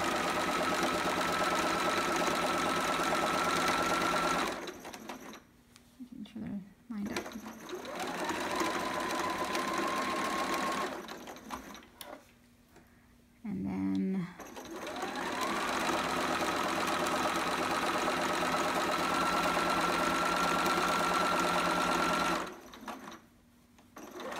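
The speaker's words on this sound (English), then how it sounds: "I'm just doing the 1/4 inch seam. I'm straight stitching" Sewing machine running a straight stitch along a quarter-inch seam on a child's romper, loud steady whirring in three long runs with short quiet pauses and handling noises between them.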